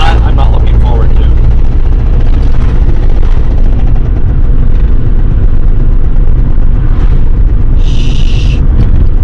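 A Dodge Neon ACR with a thrown rod driving along, its loud continuous engine and road rumble filling the cabin without a break, and people talking over it.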